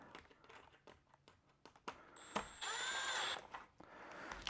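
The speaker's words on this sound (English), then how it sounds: "I've got a drill to make it super easy." Cordless drill driving screws into a ceiling fan blade, a short, high whirring burst amid handling clicks and knocks, close and fairly quiet.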